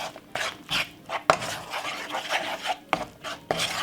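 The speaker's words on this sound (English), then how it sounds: "Give it a nice, lovely stir." Unsalted butter being stirred in a bowl while preparing a plantain tart, a quiet, close series of irregular scraping and tapping strokes with short pauses between them.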